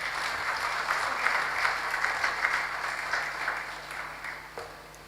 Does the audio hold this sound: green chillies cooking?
no